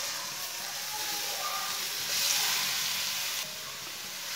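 Grated carrots sizzle in hot oil for carrot halwa, a steady close hiss that swells briefly partway through before easing back.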